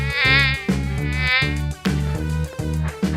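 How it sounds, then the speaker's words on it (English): Mosquito buzzing comes as a loud, close, whining drone that repeats in short sustained bursts, with a wavering pitch and abrupt restarts. "mosquito."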